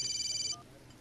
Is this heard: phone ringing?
yes